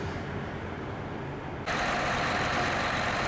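Biodiesel locomotive of the Mount Washington Cog Railway, a steady engine rumble and broadband mechanical noise that jumps louder about halfway through, with no talk.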